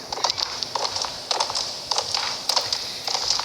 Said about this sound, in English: I'm not used to being this close to my horse.